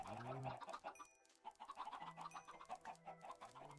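Chickens cluck in a Minecraft farm area, a steady run of short clucks and squawks at moderate level, several birds overlapping close by.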